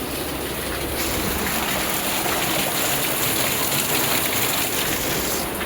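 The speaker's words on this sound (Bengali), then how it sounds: "প্রচুর বৃষ্টি হচ্ছে, প্রচুর বৃষ্টি।" Heavy rain pours down in a dense, continuous roar that stays loud and unbroken throughout, with no voices over it.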